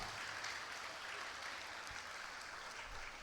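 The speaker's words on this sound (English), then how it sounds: "Give a big applause to the students of class 6R, 9R." A school assembly audience applauds students of classes 6R and 9R, a fairly faint but continuous patter of many hands clapping, roomy and steady, with no voices on top.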